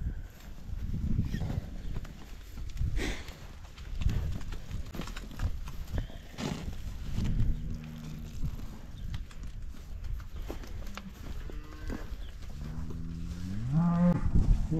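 Cows and calves on a farm with about 140 calves moo repeatedly, several drawn-out lowing calls near and at middle distance amid rustling and shuffling livestock noise.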